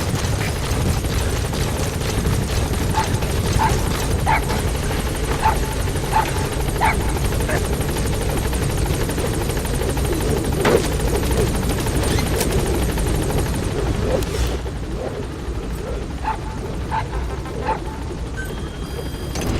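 A helicopter from the video game Metal Gear Solid V: The Phantom Pain chops steadily and loudly, rotor thumping continuously before easing slightly near the end.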